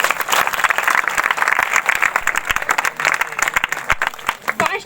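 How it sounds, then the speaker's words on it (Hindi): A church congregation at a live healing service claps loudly and energetically, with sharp individual claps standing out from the dense, uneven burst. Voices call out underneath. "ताली बजाएंगे जोर से"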